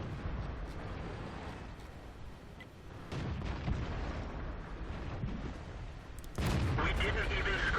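Tank cannon shots boom in the World of Tanks video game, set on the Siegfried Line map with an IS-2 heavy tank, several heavy blasts and rumbling impacts under a continuous layer of game noise, with one sharper, louder burst near the end.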